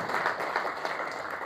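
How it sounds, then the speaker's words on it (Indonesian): A church congregation applauding, a soft, continuous patter of many hands clapping together, heard fairly distant and faint. "Beri tepuk tangan terbaik buat Tuhan."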